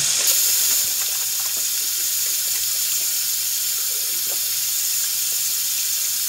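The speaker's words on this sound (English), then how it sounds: "then wash my hands so I'm not transferring makeup to other surfaces" Running tap water splashing into a sink while hands are washed, a steady, soft hiss of flow that continues evenly and close by without any talking.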